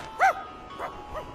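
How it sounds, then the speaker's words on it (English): A dog barks sharply once, then gives two softer, shorter yips in quick succession, close by and without any speech over it. "He's not usually making this much barking noise."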